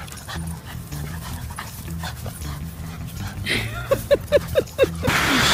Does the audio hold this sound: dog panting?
yes